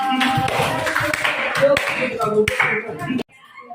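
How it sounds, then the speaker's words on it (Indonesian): A classroom of students claps for a classmate in a burst of brisk, close applause mixed with voices. The clapping stops abruptly near the end. "Kasih aplaus untuk Mas Al."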